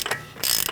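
A ratchet snugs up the front axle nut on a 2002-2006 Toyota Camry during a wheel hub replacement: a brief, close burst of rapid metallic clicking, with a short pause between two quick runs.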